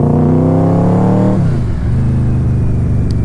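A Yamaha Royal Star V4 motorcycle engine revs loudly up close, holding a high steady pitch before dropping back to a lower idle-like drone, with no talk.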